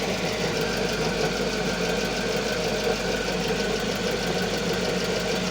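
A Volvo car engine with a charging fault runs at a steady, even idle, close and constant throughout, with a faint knocking texture and no talk.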